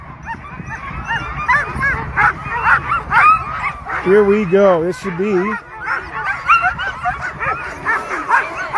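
Sled dogs at the Knik 100 sled dog race in Alaska bark, yip and whine in an excited, overlapping chorus, loud and close, with a person talking throughout.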